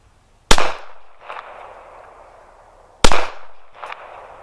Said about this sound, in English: let's try a small magazine now of the round points.